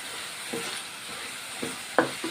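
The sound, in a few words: raw banana curry frying in oil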